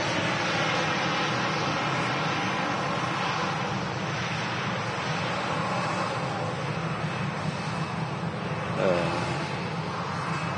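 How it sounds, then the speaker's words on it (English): Airbus A380 jet engines spooling up at Manchester Airport before taxiing, a loud, steady broadband roar with a constant rush that fills the whole stretch. "A380 just starting its engines now."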